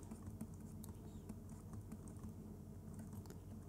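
Keys on a computer keyboard are pressed in quick, irregular taps during photo retouching in Lightroom and Photoshop, soft over a steady background hum, with no talking.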